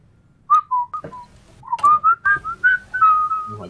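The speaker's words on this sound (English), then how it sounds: "the whistle echo is amazing" Clear melodic whistling in a multiplayer game session, a string of short bright notes rising and falling with a ringing echo trailing each one, loud and close with no talking.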